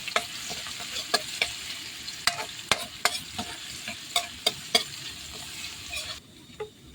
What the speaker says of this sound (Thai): ผัดใส่กระเทียมหอมนะครับ